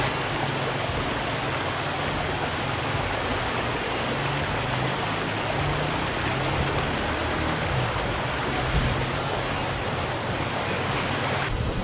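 Water flows hard through a small village water mill in the Kalash valley, a dense, constant rushing roar heard up close for the whole stretch, with no talking.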